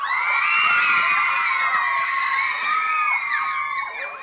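A large crowd of about sixty people shouts, whoops and cheers loudly together, a dense, close, continuous chorus of high excited voices that fades slightly at the end.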